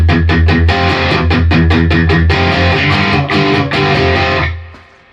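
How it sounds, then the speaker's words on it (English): An electric guitar played through a Boss DS-1W Waza Craft distortion pedal into an amp's clean channel rings out loud, with rapid repeated picked chords giving way to sustained distorted notes that fade out. "that's straight through the clean channel using the distortion pedal"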